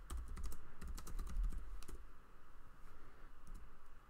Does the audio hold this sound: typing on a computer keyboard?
yes